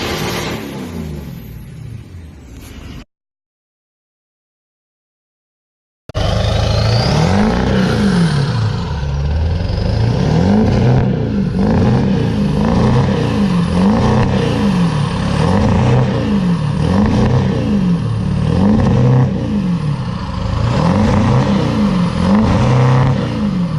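A Ford diesel pickup truck engine starts after a brief silence, then revs repeatedly in a steady rising-and-falling rhythm, loud and close, with no talking.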